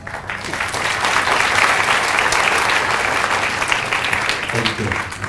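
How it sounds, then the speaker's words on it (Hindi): A live audience at a film master class claps hands together in steady, dense applause that holds loud and even from start to finish, with a few voices underneath. "ताली बजा के।"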